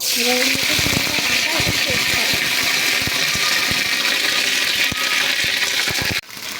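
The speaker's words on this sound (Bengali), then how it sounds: "এই যে গরম তেলের মধ্যে আমরা আগে আস্ত গরম মশলাগুলো দিয়ে দিলাম" Whole garam masala (cinnamon, cardamom and cloves) sizzles steadily in hot oil, a loud continuous fry with scattered crackles and pops, ending in a brief drop.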